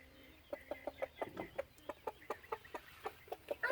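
Chickens cluck close by in a steady series of short, evenly spaced clucks, fairly quiet but clear, with a little shuffling in between and no talk over them.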